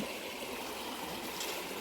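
Water flowing along an irrigation channel in a sugarcane field, a steady, continuous trickling and gurgling stream heard close by with no talk over it.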